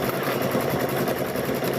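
A sewing machine stitches quilt squares with the seams pressed open, giving a steady, continuous motor whir at close range that holds an even level throughout with no pauses.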